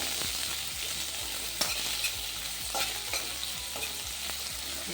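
Finely chopped onion sautéing in oil in a kadhai, a continuous loud sizzle with repeated scraping strokes of a spatula stirring it through.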